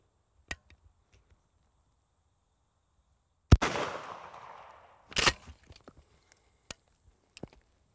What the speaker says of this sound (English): for this first shot, we're gonna give it some bird shot. Right to the wall face.